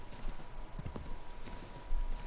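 Horse hooves clip-clopping in the video game Assassin's Creed III, a steady rhythmic trot of close hoofbeats over a low ambient game background.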